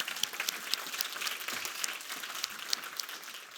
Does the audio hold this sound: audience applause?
yes